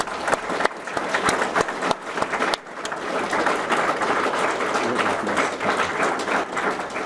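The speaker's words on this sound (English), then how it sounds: "Give these guys a round of applause." Audience at a school pathway celebration gives steady, full applause for co-op students, a dense wash of many hands clapping throughout, briefly dipping midway before swelling again, heard up close and filling the room.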